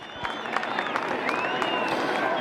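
A schools hurling final crowd cheers and applauds a scored point, with sustained clapping and shouts rising together, steady and fairly loud, with whistles or shrill cries threaded through.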